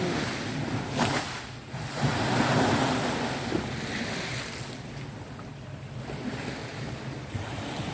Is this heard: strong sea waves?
yes